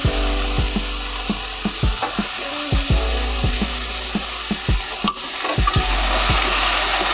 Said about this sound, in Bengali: এই কড়াতে আলু দেওয়া হচ্ছে, এটাকে এবার ভালো করে ভেজে নেওয়া হবে।